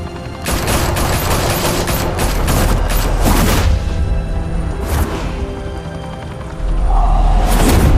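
Gunfire erupts in a Batman Telltale video game, loud rapid bursts of shots and booms layered with crashes and whooshes, a dense nonstop barrage that swells again near the end.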